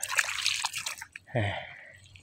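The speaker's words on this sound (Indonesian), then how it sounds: "ini kita siram" Water drips and then pours briefly onto the soil around young tuber plants during watering, a short, close splash followed by a fading trickle, with no talking.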